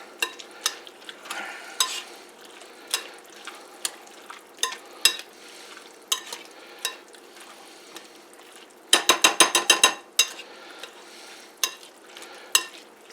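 Breakfast casserole ingredients, including leftover holiday sausage, being stirred in a sizzling pan, with repeated scraping strokes, a quick rattling burst in the middle and steady frying underneath, close up and without talk.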